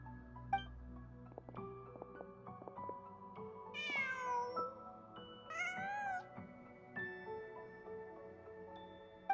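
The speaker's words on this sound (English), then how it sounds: "Just a cat." A cat in a video game meows twice in clear, drawn-out calls over soft game music and ambient tones, fairly quiet overall.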